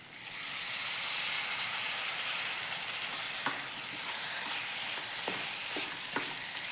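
Chopped tomato frying in a pan of oil for a chicken gravy, a steady dense sizzle with a few light stirring clicks and scrapes, close and continuous with no voices.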